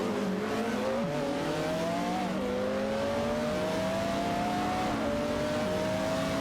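Race car engines in an AI-driven racing video game drone continuously, their tones rising and falling in pitch as the cars accelerate and shift, layered together at steady loudness.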